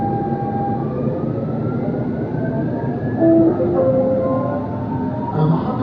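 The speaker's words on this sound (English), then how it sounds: "That is the platform where you wait for the train to come" A train at a station platform, a loud continuous rumble with brake squeals and whining tones rising and falling, close by, with no speech.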